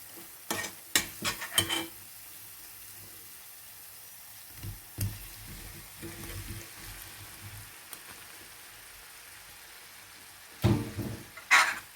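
Intermittent scraping and clinking of a spoon stirring chili flakes, black pepper and cumin in a pan, with a faint sizzle of frying underneath and brief louder bursts at the start and end.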